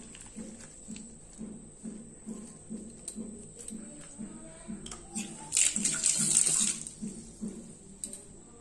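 Water drains off freshly chopped banana flower in a kitchen: soft rhythmic patter and trickling, then a louder pouring splash for about a second near the end, close and without speech.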